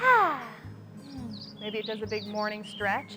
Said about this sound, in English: we hear the birds chirping